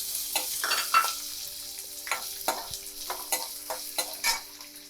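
Shallots and garlic cloves sautéing in a pan for tamarind kuzhambu with green field beans: a steady sizzle of frying broken by repeated sharp scraping stirs, close and fairly loud, with no talking.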